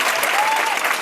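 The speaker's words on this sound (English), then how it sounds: "Let's give them a warm round of applause" Audience applause at a women-in-leadership celebration event, a steady wash of clapping from a crowd, loud and close throughout with no gaps.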